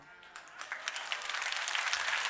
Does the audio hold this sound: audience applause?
yes